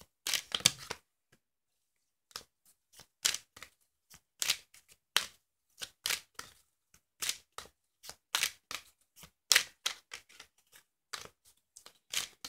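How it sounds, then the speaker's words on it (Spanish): Quiet bursts of cards being shuffled and riffled, crisp flutters coming in uneven clusters with short pauses between, close and alone without talk. "Vamos a barajar las cartas para limpiarlas."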